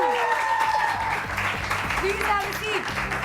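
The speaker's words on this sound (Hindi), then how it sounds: "तो लीना के लिए तालियां।" Studio audience applause on a Pakistani morning talk show, steady and fairly loud clapping filling the room, with music tones and other voices layered underneath throughout.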